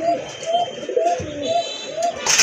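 Pigeons coo in a steady run of short, evenly spaced calls, loud and close, with faint background noise.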